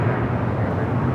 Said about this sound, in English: Air France, the 777-300ER, this is, I think, 23, flight 23, heading back to Paris